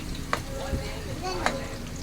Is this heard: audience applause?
no